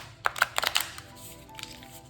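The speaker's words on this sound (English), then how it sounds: "I'm going to actually shuffle this deck" A bulky tarot card deck is shuffled in a few quick riffles, soft papery flicks and taps clustered early, then faint rustling, close and quiet with no talk.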